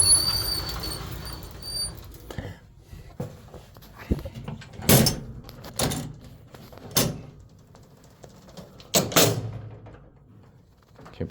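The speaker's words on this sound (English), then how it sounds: "These are Otis doors." Otis doors on a bottom-drive traction freight elevator slide and clunk in a series of sharp, loud bangs and rattles, spaced a second or two apart against a quiet mechanical room hum.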